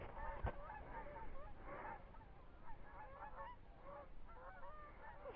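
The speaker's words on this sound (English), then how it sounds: "More geese." Geese honk repeatedly in a loose, overlapping chorus at moderate distance, with a single sharp knock early on.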